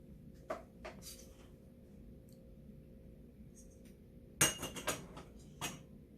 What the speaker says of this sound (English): we're just going to get one of the jars out